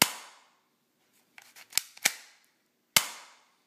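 A repaired airsoft pistol is fired, giving sharp snappy cracks: one shot, a short cluster of clicks and two quick shots, then a last shot, each ringing briefly with a metallic tail in a quiet room.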